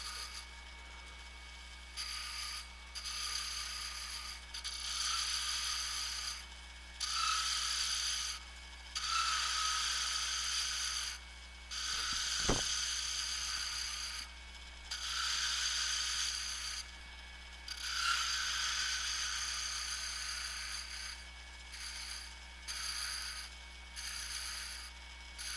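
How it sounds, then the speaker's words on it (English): A wooden spindle turning on a lathe while a woodturning tool scrapes it to cut a shallow cove, giving a steady hiss that rises and falls in repeated passes, with one sharp click partway through. "it's sounding a little less like scraping now because it's captured at the end"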